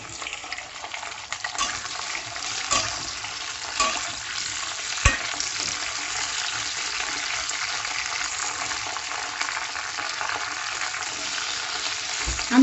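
Okra frying in hot white oil in a wok, giving a steady, fairly loud crackling sizzle throughout with a few sharper bursts as it is stirred.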